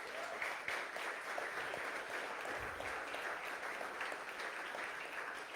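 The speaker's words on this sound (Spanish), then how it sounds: "Dale un aplauso a Él." Church congregation clapping for God during a sermon, a sustained wash of applause from a large room, even and moderately distant throughout.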